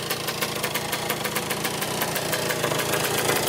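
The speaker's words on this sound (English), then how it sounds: "Alright, idling perfect." A Kawasaki Tecate 3 250cc three-wheeler engine idles steadily up close with a rapid, even ticking rhythm and constant rumble throughout.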